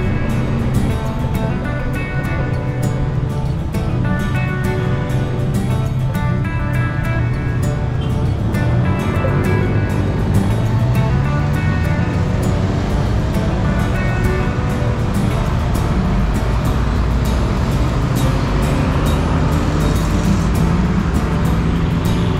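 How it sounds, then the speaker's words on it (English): Dense road traffic rumbles past at Bangkok's Democracy Monument, a loud, continuous wash of engines with buses and cars rising and falling as they pass close by, without speech. "I'm going to watch the traffic a little bit."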